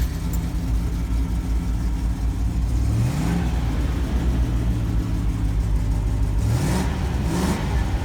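1988 Land Rover Defender 127/130 engine running close by, a continuous low rumble with a couple of brief revs rising in pitch and settling back.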